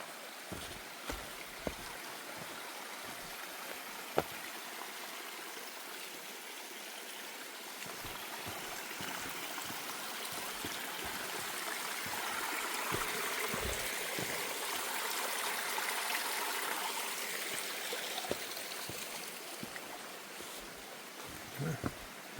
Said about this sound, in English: This is a really nice water source.